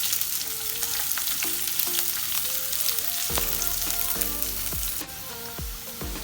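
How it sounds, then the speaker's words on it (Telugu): Cumin and onion frying in hot oil in a pan for dry paneer bhurji give a steady close sizzle, with occasional stirring clinks and scrapes throughout and no speech. "పాన్లో ఆయిల్ వేడయ్యాక ఫస్ట్ జీలకర్ర, వేగిన తర్వాత ఆనియన్,"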